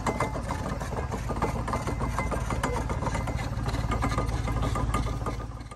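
Engine-driven horizontal cane mill running in Appalachia, a loud continuous mechanical drone with a rapid steady chugging pulse and rattling grind, close and unbroken throughout, no voices.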